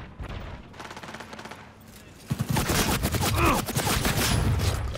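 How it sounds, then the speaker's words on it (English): Shotgun blasts in the video game Cyberpunk 2077, a dense run of loud, sharp bursts that thickens midway into heavy overlapping gunfire amid game sound effects. "The shotgun's crazy."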